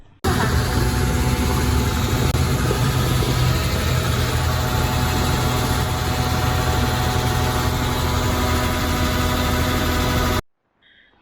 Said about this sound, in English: That's an old Deutz. Deutz 3-cylinder.